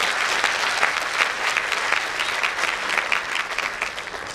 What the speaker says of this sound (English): That, my friends, requires a huge round of applause.